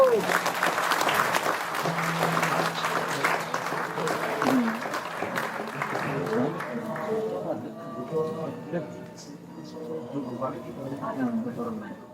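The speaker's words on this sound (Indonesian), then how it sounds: "Monggo kita berikan tepuk tangan dan hormat untuk beliau" Audience at a performance event applauds loudly and steadily, the clapping fading out over the second half as voices and background sounds remain.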